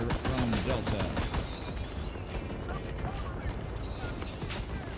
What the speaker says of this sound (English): we got an enemy machine gun fire from Delta